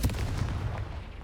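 The Confringo fire spell blasts in the Hogwarts Legacy video game, a short, deep booming burst with a rumbling, explosive body that fades quickly.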